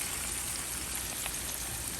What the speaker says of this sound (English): you can hear the bacon frying better than you can hear anything else